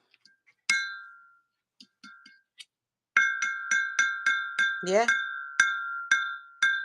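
Pieces of black glass clink against each other as they are handled, a few light taps followed by a quick run of sharp, ringing clinks close by, with a brief voice in between.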